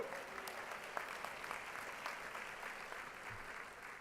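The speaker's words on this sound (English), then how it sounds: "So let's give our city commission a round of applause again." Audience clapping steadily at a high school commencement ceremony, a dense even wash of many hands filling the hall for the full stretch without letting up.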